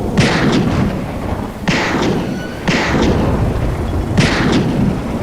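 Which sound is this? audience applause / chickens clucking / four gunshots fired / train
four gunshots fired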